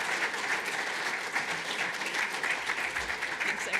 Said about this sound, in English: please, round of applause.